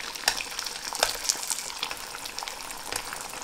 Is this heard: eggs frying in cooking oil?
yes